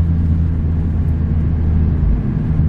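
600HP turbocharged Ford Falcon on Mickey Thompson ET Street tires, a loud deep engine rumble under hard throttle, sustained and close, heavy and low with no voices.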